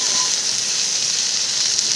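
Okra fries with onions and spices over low heat, a steady broadband hiss and sizzle close by that holds evenly for about two seconds without pauses.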